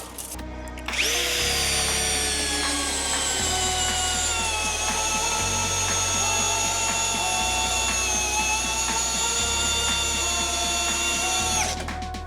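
A cordless Alpa screwdriver drives a 300 mm self-tapping screw, giving a loud, steady motor whine that runs nearly unbroken for about ten seconds before cutting off, with no voices.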